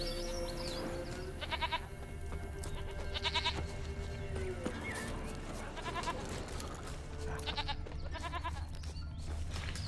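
Repeated goat bleats in The Witcher 3 game world, several short wavering calls spread through the clip over steady ambient game sound and a low background hum.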